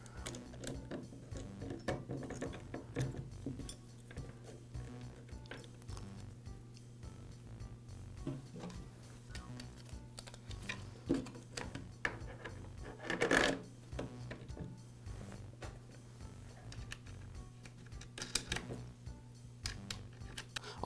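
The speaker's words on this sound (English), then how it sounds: "Now install the bar and chain and the side cover." Chainsaw bar, chain and side cover being fitted back onto a Poulan chainsaw during an oil pump repair, with faint scattered metallic clicks and clatter of parts, soft and close, over a quiet background hum.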